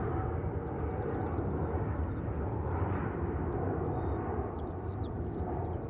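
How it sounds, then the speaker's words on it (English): China Eastern Airbus A350 jet at Sydney Airport, a faint, steady distant engine rumble spread evenly across the moment without talk. "as we watch this China Eastern, I believe it is, A350 going it."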